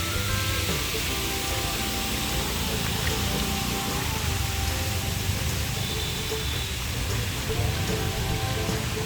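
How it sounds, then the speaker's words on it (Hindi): Steady, dense rain falls on an evening in Pondicherry, a continuous broadband hiss that stays even and loud throughout with no voices. "वर्षा प्रबल हो"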